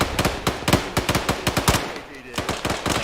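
Rapid bursts of automatic gunfire in Arma 3, a dense run of sharp, loud shots in quick rhythm with a brief lull before firing resumes.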